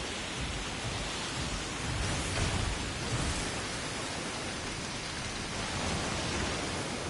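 Heavy, steady rain in a video game pours down in a dense, continuous hiss with no pauses, loud and close.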